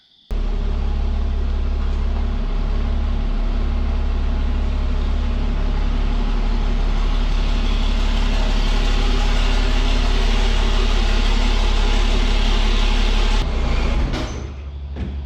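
A 4th gen 6.7 Cummins race truck engine rumbles steadily and loudly as the truck pulls into a garage, a deep continuous drone that cuts off abruptly near the end with some clatter.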